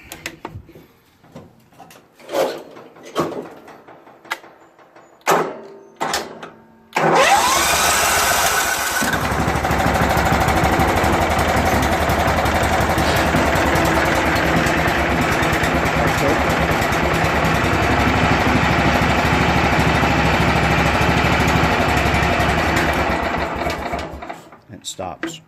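A cold start of a 14 HP Kohler Command engine on a Troy-Bilt Suburban riding lawn tractor: a few clicks and cranking attempts, then the engine catches and runs at a loud, steady idle before cutting out near the end.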